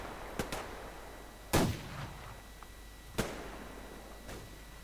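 Gunfire in the video game Survarium, a few separated shots with one heavy, booming report in the middle, moderately loud against a steady background wash.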